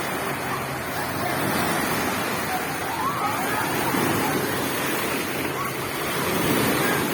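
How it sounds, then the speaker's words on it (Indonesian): Ocean surf roars steadily with broad, continuous wash and wind noise, waves breaking in a constant rumble without pauses. "Ombaknya besar, guys."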